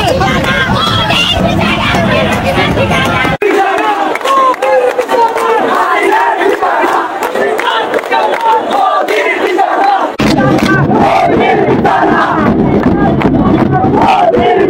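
A large crowd of revolutionary student protesters in Bangladesh chants political slogans, loud and close, in rhythmic collective shouts that go on without a break, with a brief quieter stretch partway through.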